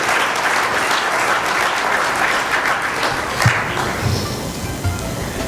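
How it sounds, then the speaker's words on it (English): Steady, dense applause from an audience at an online journalism awards ceremony honoring finalists, a continuous even wash of many hands clapping close by for the whole stretch. "We want to give them applause, and we want to recognize their great work."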